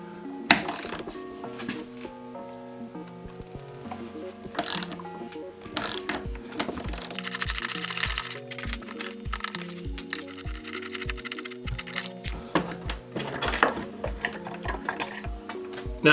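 A ratchet with an extension loosens the 13mm top shock bolt on a 2017–2018 KTM 250/300 XC dirt bike, giving quick rhythmic metallic clicks in steady runs, close and moderately loud, with occasional knocks of tools.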